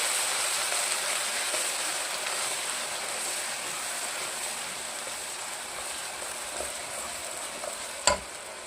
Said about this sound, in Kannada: ಈಗ ಇದನ್ನು ನಾನು ಒಂದ್ಸರಿ ಚೆನ್ನಾಗಿ ಮಿಕ್ಸ್ ಮಾಡ್ಕೊಳ್ತಾ ಇದ್ದೀನಿ